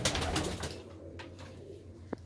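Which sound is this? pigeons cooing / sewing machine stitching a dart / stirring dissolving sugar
pigeons cooing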